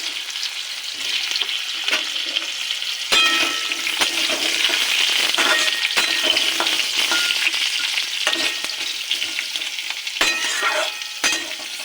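Potatoes frying in oil flavoured with cumin, sizzling loudly and steadily as a utensil scrapes and stirs them in the pan, with sharp clicks recurring throughout.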